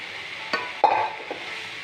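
Meat for kappa biryani sizzles gently in a pan while being stirred, with a soft steady fry broken by a few scraping knocks of the spoon against the pan.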